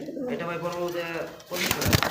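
Bombay pigeons coo in a low, rolling murmur close by, the calls running continuously and getting busier with fluttering near the end, while people talk at a pigeon market.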